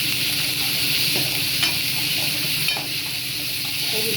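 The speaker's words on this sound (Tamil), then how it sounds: "இஞ்சி பூண்டு வதங்கணும்" Ginger and garlic sauté in a pan for a potato curry, a steady close sizzle with a few soft stirring scrapes and no talking.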